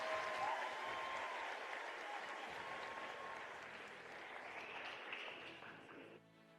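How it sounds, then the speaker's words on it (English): Sustained audience applause for the medalists at a national skills competition closing ceremony, a dense even wash of clapping from a large crowd that tapers off at the end. "Another round of applause for the medalists."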